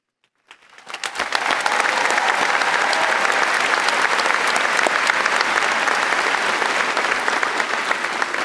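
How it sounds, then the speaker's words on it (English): Audience applause at a 2021 high school commencement, honoring fourteen students, rising quickly from silence into loud, sustained, dense clapping from a large crowd that holds steady to the end. "Join me in applauding the outstanding achievements of these 14 students."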